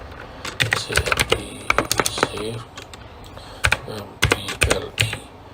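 Text is typed into an Excel label on a computer keyboard, heard as irregular bursts of close, crisp key clicks with brief pauses between words, while someone talks quietly underneath.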